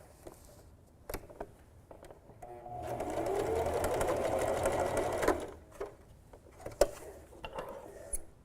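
A sewing machine runs in one steady whirring burst of a few seconds, stitching a dart on a small fabric mouse ornament, with light handling clicks and taps before and after.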